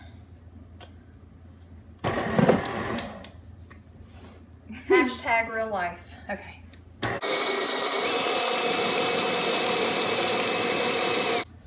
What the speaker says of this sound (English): And now we are just going to cream this together.